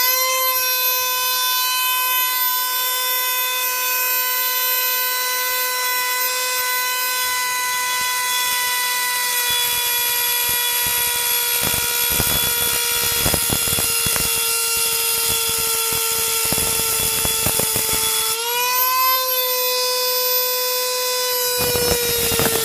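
A Dremel 4000 rotary tool with a metal cutting wheel cuts through thick solid metal: a loud, continuous high-pitched whine that holds steady, then dips briefly in pitch near the end before recovering.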